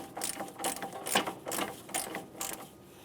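Torque wrench ratcheting as a sway bar link nut is tightened to 58 foot-pounds on a 2007-2013 Acura MDX, with five or six short bursts of clicking in a steady, close rhythm and no talk.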